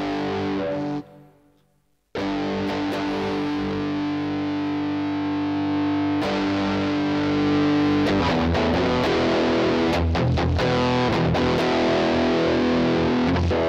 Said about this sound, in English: Heavy distortion, compression, distortion drive.